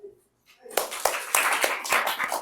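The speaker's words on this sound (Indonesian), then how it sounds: "Beri tepuk tangan." An audience breaks into applause after a brief quiet moment, a dense run of claps that swells and carries on to the end, with faint talk just before it begins.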